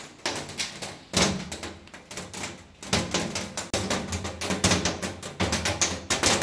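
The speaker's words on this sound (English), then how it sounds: "Although it sounds like it's hailing." Heavy rain drums hard on a roof in Guanajuato, loud enough to sound like hail, in dense rattling bursts that swell and ease in waves with no voices.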